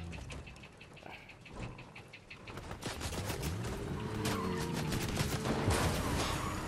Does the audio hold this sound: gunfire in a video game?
yes